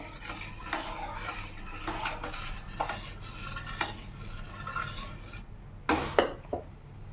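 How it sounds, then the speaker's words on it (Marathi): A spoon stirs a coconut burfi mixture of coconut and sugar with cardamom powder in a pan, scraping and clinking against the metal in repeated strokes over a low sizzle, close up, ending with a few louder knocks. "आता मी घालते वेलची पूड त्यालासुद्धा मिक्स करून घेते"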